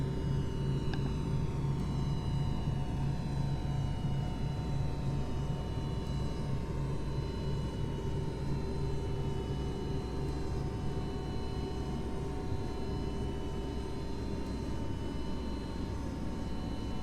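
Steady, dense engine drone of an airplane in Microsoft Flight Simulator X during a climb, a continuous broadband roar with a faint tonal hum and no talking.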